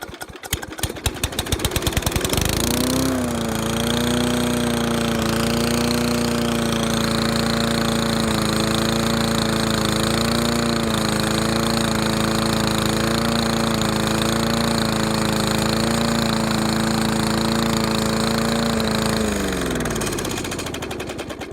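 An old Briggs & Stratton lawn mower engine, an older side-valve type, pull-starts and then runs loud and steady at high idle for nearly twenty seconds with a harsh, barky drone before cutting off.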